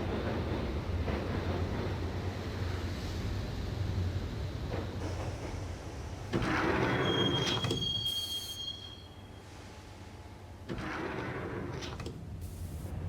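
A train ride in the Max Payne PC game: a steady low rumble of a moving subway car swells midway, with a brief high wheel squeal, then eases to a quieter run before the rumble builds again. No one speaks.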